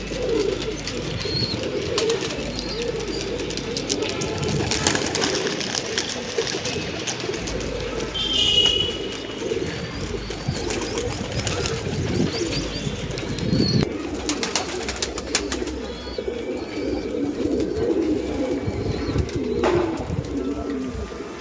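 Pigeons coo in a low repeated murmur from a flock close by, with occasional wing flaps and rustling throughout, steady and busy.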